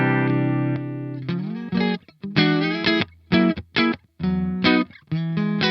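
Clean electric guitar through the Primo amp sim by APFX, with plucked chords and notes in short phrases. The notes ring clearly, alternating with brief gaps and quick restrikes.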